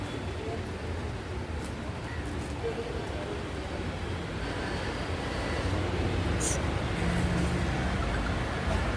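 Railway station ambience while waiting for the delayed Sabari Express, a steady broad rumble of trains and crowd with a slight rise in level toward the end, no clear speech.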